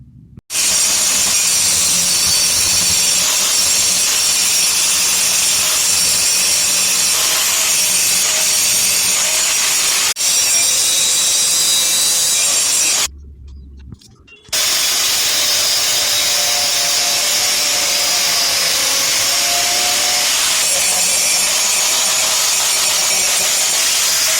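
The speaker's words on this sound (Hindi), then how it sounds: "ग्राइंडर के अलग अलग जो ग्राइंडिंग हेड होते हैं उनका यूज़ करते हुए हम इसको प्लेन करेंगे" A grinder smooths the metal footrest mount on a Yamaha RX100 motorcycle, a loud, continuous, close abrasive whine that runs almost without pause, with one brief break near the middle before grinding resumes.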